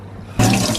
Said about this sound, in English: Prepare cold water and put the rice in.